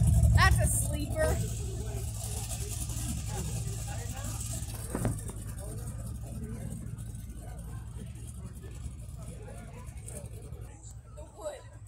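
A loud car engine at a car show, a low-riding sleeper build, rumbles steadily with a deep idle and brief revs near the start, while people talk nearby over the continuous drone.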